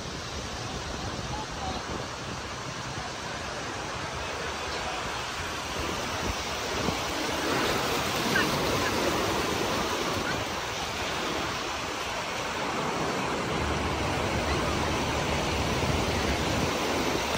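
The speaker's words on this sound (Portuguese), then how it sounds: "Bastante gente na praia central." Steady broadband surf washes along a crowded central beach in Balneário Camboriú, forming a continuous roar with faint crowd murmur and some wind buffeting the microphone throughout.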